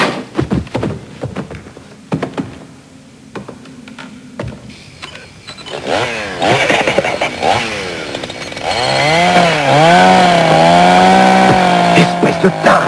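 A chainsaw sputters and idles, then revs up into a loud, whining roar that rises and falls in pitch as the engine is throttled.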